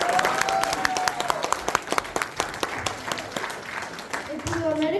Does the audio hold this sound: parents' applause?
yes